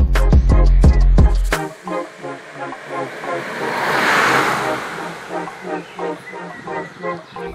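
A 2019 Suzuki Jimny, a small boxy off-roader with a 1.5-litre four-cylinder petrol engine making 102 hp, drones steadily with a rising, surging tone after a few sharp knocks at the start.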